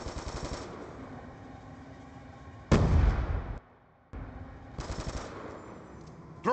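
Frag grenade explosion in the video game Black Ops II: a loud, close blast bursts out midway and cuts off abruptly, set against a steady backdrop of rattling gunfire that resumes afterward.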